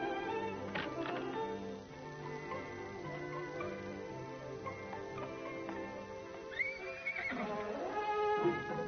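A horse whinnies repeatedly, shrill and wavering, against a steady rumble of background sound, with faint hoof clopping between the calls.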